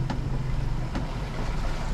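Outboard motor on a 2005 Duckworth 18 Advantage boat running quietly out on the water, a steady low drone beneath wind and water noise with a couple of faint knocks.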